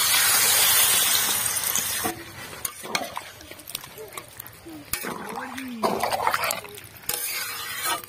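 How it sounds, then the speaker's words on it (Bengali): Water is poured into a pan of fried potatoes and plantain, setting off a loud, hissing sizzle that gradually settles into a softer bubbling, with someone talking over it. "আলু কলা ভালো করে কষিয়ে নিয়েছি, এখন জল দিয়ে দেবো"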